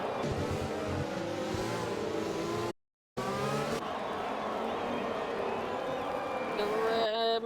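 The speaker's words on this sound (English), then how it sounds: "Late braking from the McLaren into turn one" F1 race cars in the RSF1 racing game, a McLaren braking late into turn one, with screaming engines shifting pitch under steady commentary, a brief dropout, then engines resuming.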